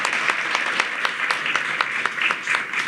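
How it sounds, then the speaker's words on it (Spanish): Audience applause at a ceremony in Mexico City marking the 150th anniversary of Francisco I. Madero's birth, with clearly separate, rhythmic claps standing out over a steady wash of clapping. "Y pido a los presentes un aplauso para nuestras celebridades el día de hoy."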